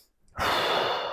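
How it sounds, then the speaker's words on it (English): A single loud, close exhale during an at-home moderate-intensity strength workout, heard just before a rotational push press with weights, a sharp forceful breath that starts abruptly and holds steady for most of a second. "Nice breath."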